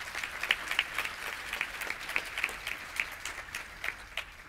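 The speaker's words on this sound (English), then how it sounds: "So please, a huge round of applause to the folks who made this happen." Conference crowd at the FAT* 2019 opening applauding the organizers, a fairly quiet, somewhat distant patter of clapping with individual sharper claps standing out, continuing evenly throughout.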